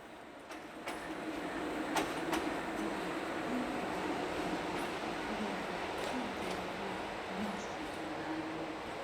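A Hungarian MAV Class 433 locomotive, one of a class rebuilt by the state operator in 2007 and 2008, rumbles past with a steady, continuous roar and some sharp metallic clicks mixed in.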